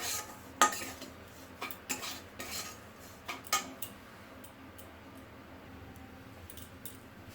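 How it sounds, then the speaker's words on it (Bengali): Semolina frying in a pan while a utensil stirs and scrapes it, giving several sharp metallic clinks and taps in the first few seconds over a faint, steady cooking hiss that carries on alone. "দেখো আমার সুজিটাও ভাজা হয়ে যাচ্ছে"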